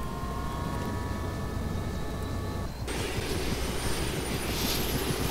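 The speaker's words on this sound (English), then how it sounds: "Start up the helicopter and push a little Q." A helicopter in the video game Arma 2 starts up, its engine whine and rotor noise holding steady and then shifting abruptly into a fuller, brighter roar partway through.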